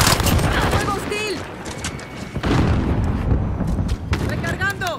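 Gunfire in the video game Modern Warfare, dense bursts of rapid shots and booming blasts that crowd together loud and close, with voices speaking over the battle.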